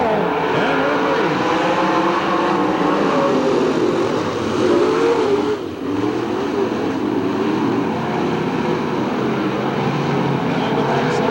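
Race cars circle the dirt oval at Hamilton County Speedway in 1993, a dense, continuous engine roar with shifting pitch sweeps as cars pass, loud and steady throughout with a brief dip midway.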